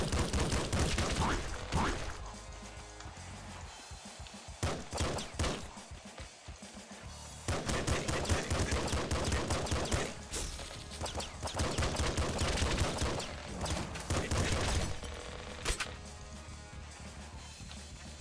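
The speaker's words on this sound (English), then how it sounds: "machine gun is just an automated pistol. Shoots a bit slower, but it's fully automatic" A fully automatic machine gun fires in the video game Nuclear Throne, rapid loud bursts of gunfire repeating through the clip with short pauses between volleys and dense impact and explosion noises.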